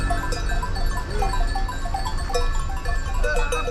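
Sheep on a road on Kefalonia, Greece bleat repeatedly over the steady low rumble of a passing vehicle, the calls coming in short bursts from nearby.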